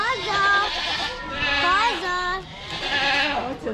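Goats bleat repeatedly in wavering, nasal cries, several overlapping calls close by and fairly loud, with a person talking among them.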